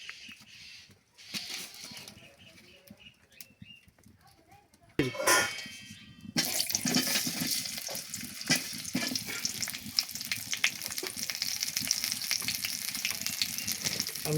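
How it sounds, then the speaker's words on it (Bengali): Potatoes frying in mustard oil in a pan for a village chicken and potato curry, a steady close sizzle that swells after a few seconds and continues loud to the end, with scattered clinks and scrapes. "এখানে রাখা আলুগুলো আগে ভেজে নিব আমি"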